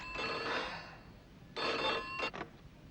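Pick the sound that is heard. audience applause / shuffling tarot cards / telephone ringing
telephone ringing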